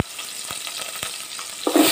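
Red onion fries in a pan with a steady, soft sizzle, broken by a few sharp stirring knocks and a louder hiss at the end.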